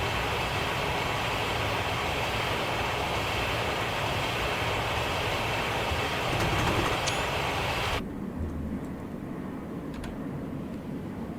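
A Class 186 locomotive in Train Simulator rumbles past with a dense, steady roar that holds for several seconds, then drops abruptly to a softer, hollow rolling noise.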